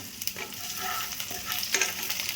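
Onions and bay leaf sizzle in mustard oil and ghee in a pan, a soft, steady frying hiss with light stirring scrapes, faint and close.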